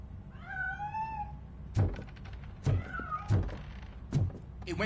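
A cat meows in a Robocop video game, a pair of rising-and-falling meows followed by several sharp thuds and knocks, fairly close and unaccompanied by talk.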